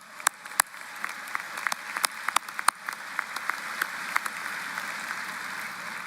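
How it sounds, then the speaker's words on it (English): Steady applause from a crowd at a university commencement ceremony, a dense patter of many hands with a few sharper claps standing out, holding at an even level throughout. "you can clap for that"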